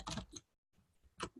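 Bursts of typing on a computer keyboard, a few quick clustered key clicks with a short silent gap between them, fairly faint and close, with no talk.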